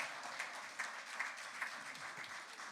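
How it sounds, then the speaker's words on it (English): Crowd applause at a National Action Network gathering, a soft, even patter of many hands, fairly distant and quiet, with a few slightly louder claps pulsing through. "I need applause."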